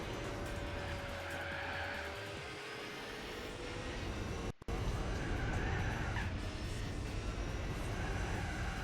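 Race cars roar around a track in Gran Turismo 4, a steady dense engine drone with tire noise running throughout, briefly cutting out for an instant near the middle before resuming just as loud.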